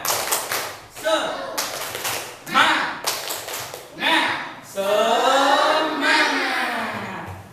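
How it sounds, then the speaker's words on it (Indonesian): A classroom of students performs a rhythmic clapping cheer, sharp sets of claps breaking out in bursts between shouted chanting voices, lively and close. "Yuk coba tepuk semangat."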